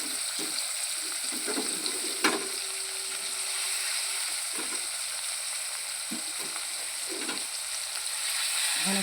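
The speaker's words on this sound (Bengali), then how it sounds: "তিত করলা ফ্রাই দিলাম" Sliced bitter gourd (karela) fries in hot oil in a home kitchen pan, giving a steady close sizzle with occasional soft stirring scrapes and clinks, and no one speaking.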